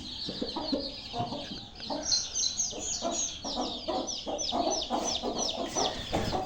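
A hen sits with six chicks tucked under her wings, giving steady repeated clucks while the chicks chirp and peep throughout, close and fairly loud, with no talk.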